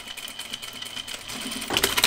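A sewing machine stitching a shirt dress, running in a quick mechanical patter that speeds up and grows louder near the end as it back tacks, close and alone.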